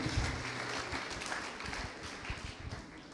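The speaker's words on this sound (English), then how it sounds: "Let's once again give a loud clap to the students of St. Joseph's School, Singngat." Audience applause for school students at an evening programme of a student orientation and sports meet, a dense steady patter of many hands clapping at moderate volume for about three seconds.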